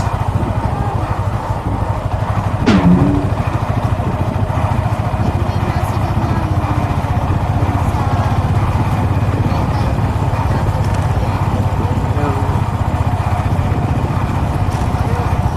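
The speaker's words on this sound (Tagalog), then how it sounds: "Parang iingay na ng motor ko." A motorcycle engine runs steadily and noisily throughout, a constant low drone with a grinding edge, with a brief clatter near the start.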